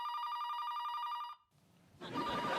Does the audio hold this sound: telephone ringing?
yes